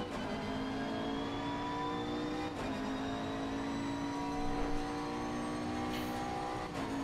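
McLaren 650S race car engine in Assetto Corsa Competizione at the Red Bull Ring: a steady, sustained mid-pitched engine whine under load, with brief dips at a couple of gear shifts, moderately loud.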